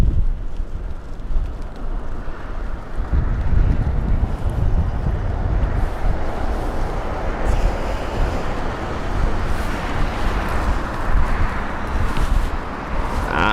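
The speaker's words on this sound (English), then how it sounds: "And now it's getting windy again." Strong wind buffets the microphone at Heathrow airport, a steady broadband rumble with gusts, close and loud throughout with no voices.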